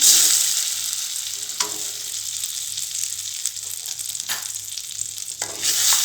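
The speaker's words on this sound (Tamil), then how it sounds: "இப்போது நம்ம கட் பண்ணி வச்சுருக்க முட்டையெல்லாம் இதில் ஆட் பண்ணி ஒரு 3 to 4 நிமிஷம் ஃப்ரை பண்ணிக்கலாம்." Halved boiled eggs sizzle in spiced masala in a pan for egg biryani, a steady loud frying hiss with a few stirring scrapes and no talking.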